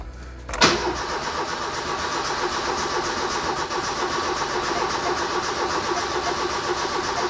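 An old Ford, a Puma or Fiesta revived after sitting for a long time, gives a brief crank, catches and starts, then settles into a steady, close engine idle with no talking.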